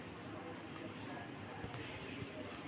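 Small balls of ripe banana batter frying in hot refined oil over a moderate gas flame, giving a steady, soft crackling sizzle throughout, fairly quiet and with no talk.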